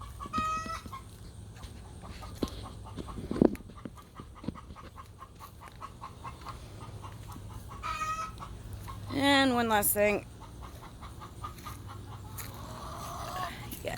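Garden chickens cluck in short bursts, including a louder rising squawk run mid-way, near and moderately loud over quiet outdoor background while a person speaks briefly.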